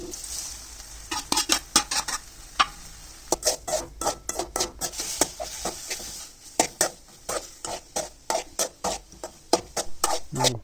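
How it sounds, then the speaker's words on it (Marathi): Upma cooks in a pan and is stirred with a spoon, giving many quick scraping and clinking strokes in an irregular rhythm, close and fairly loud, over a faint background sizzle. "तर मम्मी उपमाच बनवत होती."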